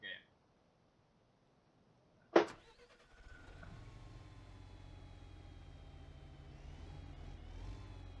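A Ford LTL 9000 truck in a video game starts up with a sharp click and crank, then settles into a steady, moderately loud diesel idle that holds with a slight rise toward the end.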